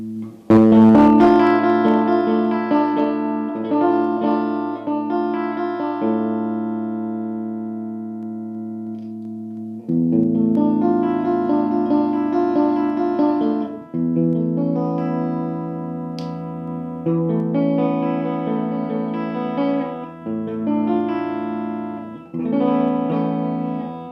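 A PRS Swamp Ash Special electric guitar played through its middle humbucker pickup: clean, sustained chords and ringing single notes in several phrases, loud and close, with a touch of effects and no talking.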